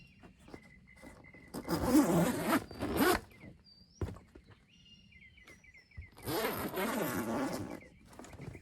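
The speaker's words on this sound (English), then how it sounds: "You do have to unzip the door to get in and out," A zippered fabric door on a Honda Pioneer 500 side-by-side is unzipped in two long, raspy pulls, close by, with a quiet pause between them.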